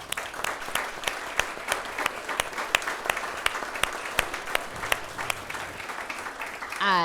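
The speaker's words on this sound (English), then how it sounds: "You got to give them a round of applause." A crowd at a 2023 State of the City event applauds steadily throughout, dense clapping that holds at an even level from start to finish.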